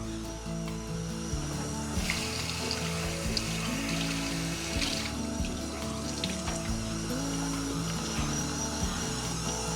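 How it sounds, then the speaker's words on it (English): Tap water runs steadily as a clean tea towel is soaked thoroughly under it, a constant near splashing hiss with a few faint knocks and clatters, and no voices. "I'm going to take a clean tea towel and I'm going to wet it thoroughly, but not dripping."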